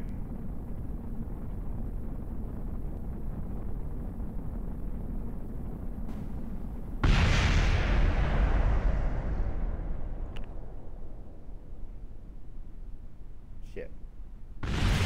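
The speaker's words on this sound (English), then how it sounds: "Oh wow. Even more explosions." Spaceships explode in the Kerbal Space Program video game: a low rumbling roar gives way to a sudden loud blast that decays slowly, followed by a few sharp bursts near the end.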